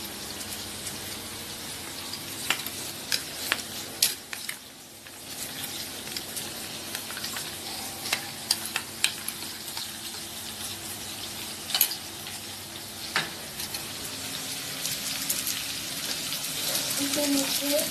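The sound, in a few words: chicken curry paste frying and being stirred in a pan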